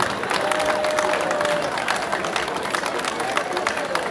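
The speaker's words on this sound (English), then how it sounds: "Let's hear the applause for him." A crowd at a boxing night in Ghana claps and cheers steadily for a dignitary, a dense, continuous wash of applause with a faint voice blended in.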